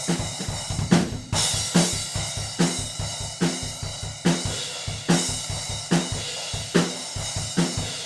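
A full drum kit caught by a pair of cheap small-diaphragm condenser microphones set up as room mics, with punchy, regularly spaced hits over a wide, roomy wash of cymbals.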